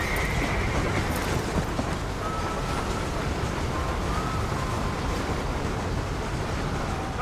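A train in the Red Dead Redemption video game, a loud, continuous rumbling wash of noise that holds steady for several seconds with no talk.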